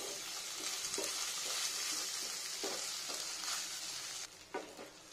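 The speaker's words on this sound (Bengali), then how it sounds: "এটা পুরো ঘিয়ের মধ্যে ভাজতে হবে।" Potatoes fry in ghee for a vegetarian potato curry, a steady close sizzle with soft stirring scrapes and small bursts of crackle, no voices.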